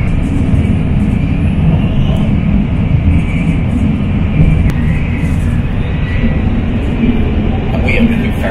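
A Shinkansen bullet train runs at speed through mountainous country outside Tokyo, heard from inside a busy carriage as a loud, steady, unbroken low rumble and rushing roar that holds throughout.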